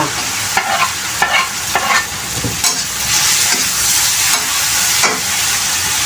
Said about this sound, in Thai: ผัดเข้าจนกว่าน้ำตาลจะละลายนะคะ